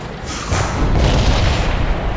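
A single heavy tank-cannon boom from a tank video game, loud and close, with a rumbling tail that fills the short clip.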